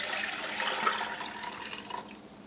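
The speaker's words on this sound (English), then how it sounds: "I have my pre-measured juice and I'll pour it right into the pot" Fruit juice pours steadily into a pot for jelly, a continuous close splashing trickle that tapers off slightly toward the end.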